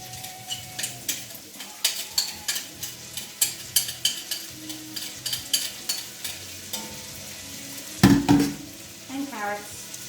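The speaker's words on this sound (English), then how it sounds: "So in goes our chopped up onion." Chopped onion frying in beef rib juices in a pan, stirred with a utensil: close, steady sizzle broken by repeated scraping and clattering strokes, with a louder burst near the end.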